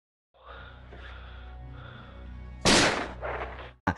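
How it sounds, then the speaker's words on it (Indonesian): Gunshot in a revenge thriller film scene: a sudden loud, sharp blast cuts through a sustained tense musical tone, followed by a reverberating tail and a second abrupt crack near the end. "Tak hanya Gary, si Driver pun ditembak di bagian kepalanya"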